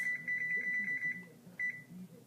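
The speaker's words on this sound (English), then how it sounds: "Set my timer because" A kitchen timer is set while cupcakes bake in the oven, giving a quick run of about eight high electronic beeps, then a pause and two more, fairly soft with faint background noise.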